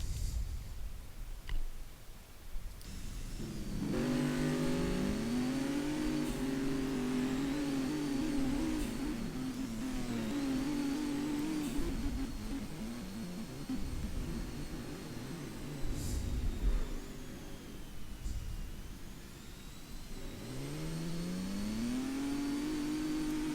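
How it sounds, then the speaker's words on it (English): Race cars in a driving simulation game engine whine and rev continuously, with pitch sweeping up and down through gear changes and a second car closing in, no voices. "That's the other race car. I knew he was going to come after me."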